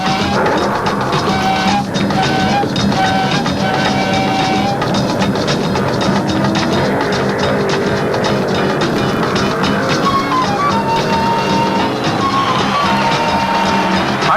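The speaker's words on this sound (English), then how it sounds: "He'll pop the clutch against the New York boy, Richie Zool, driving a Chevy Camaro." A Ford Mustang and a Chevy Camaro roar off the line at a 1975 IHRA Pro Am Nationals drag race, their loud, continuous engine blast filling the whole stretch with no pause.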